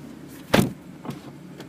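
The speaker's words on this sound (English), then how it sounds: "When I close the door," A BMW 435i door slams shut with one loud thud, followed by a softer mechanical whir as the automatic seatbelt presenter extends, then a faint click near the end.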